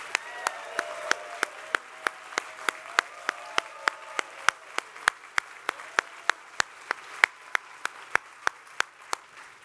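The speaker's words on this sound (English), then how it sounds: "can we give our judges one more big round of applause for making all of this happen?" Sparse, evenly spaced claps ring out at a hackathon closing ceremony in San Francisco, a thin round of applause for the judges, crisp and fairly near against a quiet room with faint voices.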